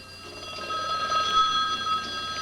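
A Western Electric telephone bell rings steadily, its bright electric tone sustained at moderate loudness through the short stretch with no voices over it.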